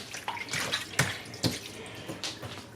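Aquarium tank water splashing and trickling into a bucket as it drains, soft and close with a few sharper splashy surges.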